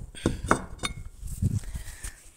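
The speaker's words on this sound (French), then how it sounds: "Donc je prends une autre assiette ici." Ceramic plates set down and clinking on a balcony during plant repotting, several sharp knocks and clinks spaced apart, close by, with faint background rustle.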